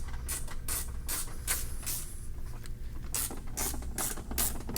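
A ratchet wrench tightening the closing screws on a tablet display endcap, giving repeated short bursts of clicking in an uneven rhythm with brief pauses, fairly close and moderately quiet.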